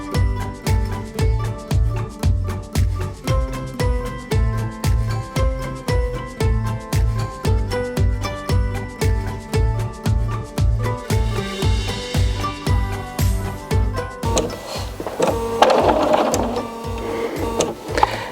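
A sewing machine stitches fabric for a sunglasses case in steady rhythmic runs of needle strokes, close and clear, with brief pauses and a mechanical rattle near the end.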